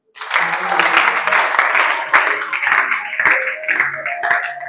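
A church congregation breaks into sustained applause, a dense, loud wash of clapping that runs steadily throughout with scattered louder claps and faint voices mixed in.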